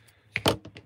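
Paper being cut with scissors while working on a journal, a few short crisp snips and thunks close to the microphone, the loudest pair in the middle of the clip.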